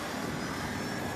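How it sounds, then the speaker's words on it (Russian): An enemy helicopter in Battlefield 2042 roars as a steady, loud whirring engine drone with no breaks, and no voices are heard over it. "Вражеская вертушка!"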